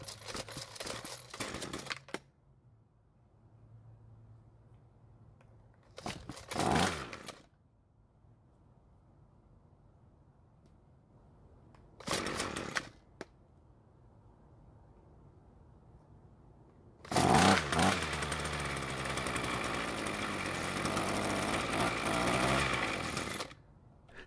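A Ryobi string trimmer with a fuel or carburetor fault makes several short loud pull-start bursts separated by quiet pauses. Its small two-stroke engine then catches and runs steadily and loudly for the last several seconds.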